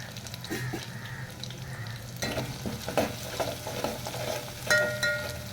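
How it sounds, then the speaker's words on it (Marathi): Ginger-garlic paste fries in hot oil for a village-style chicken curry, a soft sizzle broken by scraping stirs and clinks of a spoon against the pan, growing busier after a quieter start, with no voices. "त्याच्यामध्ये मी ही जी पेस्ट केली आलं आणि लसूणची, ही पेस्ट टाकते मी सगळी. आपल्याला व्यवस्थितपणे ती भाजून घ्यायची आहे."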